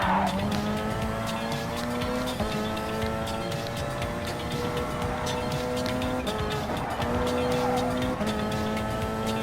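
Hybrid Gr.1 race car in Gran Turismo Sport racing at Lago Maggiore, its engine howling steadily and rising through gear changes, with brief tire squeal, loud and continuous without talk.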